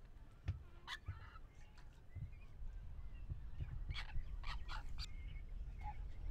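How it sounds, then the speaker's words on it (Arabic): Cormorants calling across a nesting colony on quiet sea cliffs whitened with droppings, a busy mix of hoarse, croaking bird calls at a moderate distance over a steady low background rumble. "إنها طيور الغاق أو غربان البحر، اتخذت من هذه الضفة الساكنة مكانا للتفريخ والتوالد."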